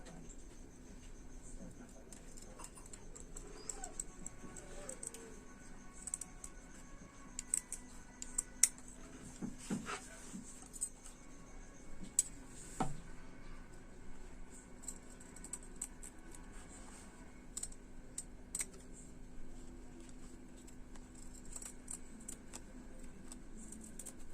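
Scissors cut blouse fabric in faint, scattered snips and ticks over about twenty-four seconds, quiet and close against a soft room hum, with a few sharper clicks standing out.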